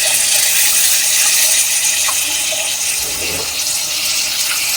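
Soaked tamarind water being poured into a fish curry in a pan, a continuous loud watery hiss and splash with faint clinks throughout, no talking.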